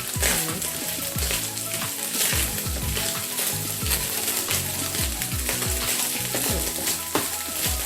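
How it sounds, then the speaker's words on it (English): Nigerian fried rice sizzles loudly in a pan while a utensil stirs it, scraping and clinking against the metal in frequent irregular strokes over a constant frying hiss. "Fry it very well. Always stir it."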